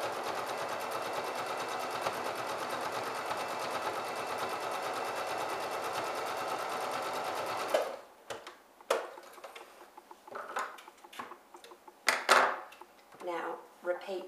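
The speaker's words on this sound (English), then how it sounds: "Unfold your bottom hem and sew your side hem." A sewing machine runs a side hem on a chair slipcover, giving a steady, close, continuous whirring stitch for about eight seconds before it stops and a voice speaks over quieter handling noises.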